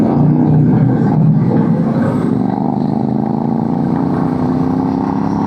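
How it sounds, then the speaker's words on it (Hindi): Motorcycles on a road ride between Patiala and Mandi, India, revving their throttles in a loud steady engine drone with rising tones, close and continuous, mixed with wind rush and no talk. "ये देखो थ्रॉटल आ रहा है बाइक्स का।"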